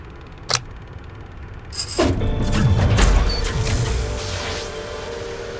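A crank turned to reactivate a box in a video game: a sharp click, then a loud mechanical grinding and rumbling whir that swells and slowly fades, with a few metallic clanks, close and alone.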